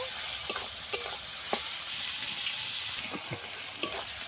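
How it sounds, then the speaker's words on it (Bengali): Constant sizzling of garlic and onion frying in a hot pan, broken by irregular clacks and scrapes of a spatula stirring. "রসুন আর পেঁয়াজ আমি একসঙ্গে আবারও ভেজে নেব"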